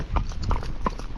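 Hooves of a Rocky Mountain horse moving uphill in a smooth foxtrot gait, an even four-beat clip-clop of several close, distinct footfalls with no talking.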